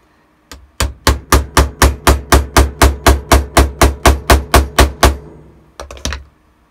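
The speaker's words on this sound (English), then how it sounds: "Stick that right in the middle and get my hammer and hammer that away." A hammer drives a tool into a Stormtrooper armor part during a Shadow Trooper build, in about eighteen sharp, evenly spaced close strikes in a fast steady rhythm, then a pause and a short final cluster of taps.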